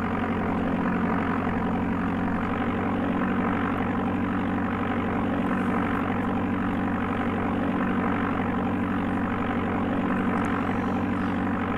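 Propeller aircraft engine drone from the Amiga game Flight Simulator II, a steady loud buzzing hum with strong low harmonics that holds constant throughout with no talk.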